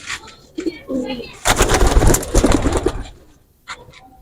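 Golden pigeon chicks, a cross between an Ali-wala bird and a red-eyed pigeon, give soft, brief cooing calls up close amid rustling and handling noise, with bursts of louder scuffling in the middle.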